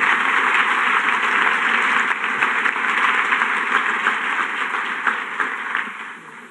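A large audience applauds steadily at the opening ceremony of the FIL 35 book fair, celebrating the Princesa de Asturias prize. The clapping stays dense and even throughout, close and sustained, with no voices over it.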